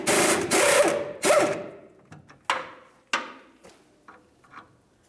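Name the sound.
socket wrench removing a 21mm nut on Dodge Dakota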